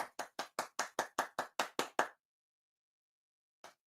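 About a dozen sharp, evenly spaced hand claps from one person in quick steady rhythm, close and fairly loud, followed by a pause and a single final clap.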